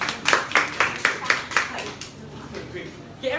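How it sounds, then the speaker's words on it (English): Scattered rhythmic clapping from a seminar audience, a few hands striking in a steady beat that loosens and fades after about two seconds, close and moderately loud. "Okay, everyone is giving a round of applause."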